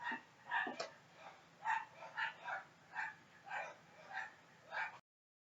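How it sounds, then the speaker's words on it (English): A small basset hound barks repeatedly at another dog, a string of about eight muffled, evenly spaced barks at a moderate distance. "There's a little basset hound that every time it sees another dog, it's just a little baby,"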